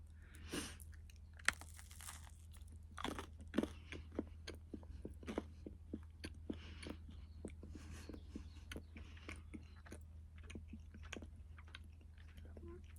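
Close, quiet chewing of a baked hazel catkin cookie, with repeated soft crunchy bites and mastication sounds in an irregular rhythm against a low steady hum, no talking.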